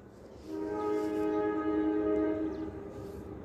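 A local train on a railway line sounds one sustained horn blast lasting about two seconds, fairly close, over a low rumble of track noise.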